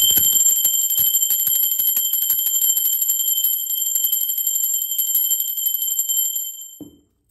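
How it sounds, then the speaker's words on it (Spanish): A bell rung repeatedly in quick succession, bright sustained ringing tones with a steady pulse for about six seconds, then cut off; no talking. "Ahora sí, va campana."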